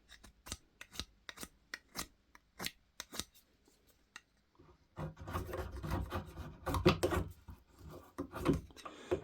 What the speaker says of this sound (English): just making a couple of pins out of a piece of oak to go in the end of the bow saw